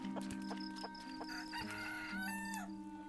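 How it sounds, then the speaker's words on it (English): A rooster crows in the farming video game Clanfolk, a synthesized cock-a-doodle-doo rising and falling over steady game ambience and clucking, heard clearly with no one talking. "Cock-a-doodle-doo."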